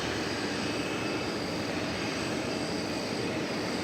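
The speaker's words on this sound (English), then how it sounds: "So there you go, 31-year-old 20th century aircraft" A 31-year-old aircraft departing DFW airport roars steadily with a loud, continuous broadband engine rush that fills the whole clip without pause.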